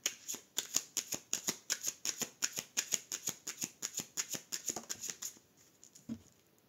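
Tarot cards are shuffled by hand close up, a quick run of about twenty evenly spaced riffling flicks that stops, followed by a few faint handling sounds.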